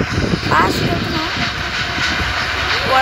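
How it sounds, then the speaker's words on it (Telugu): A moving train carriage on a rainy day, a loud continuous rumble and rattle of wheels on track heard from inside, with a voice talking over it. "ట్రైన్ స్లో అయిపోతుంది"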